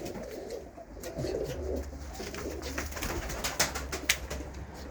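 Racing pigeons in a fancier's loft coo in a steady, low rumbling chorus close by, with scattered higher chirps and rustling.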